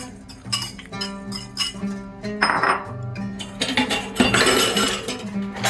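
Beets dropped into a bowl and mixed with an olive oil dressing for a Middle Eastern beet salad make a run of clinks and dull knocks against the bowl, close by, over steady background music.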